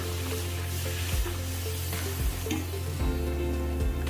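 Puris deep-frying in hot oil give a steady close sizzle and crackle, with soft low knocks at regular intervals as they are turned; no one speaks.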